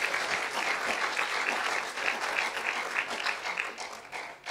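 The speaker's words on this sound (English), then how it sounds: "Give that strong applause to the Lord." A church congregation gives the Lord a strong round of applause during a service. The clapping is continuous and fairly close, holds steady for several seconds and then tapers off briefly at the end.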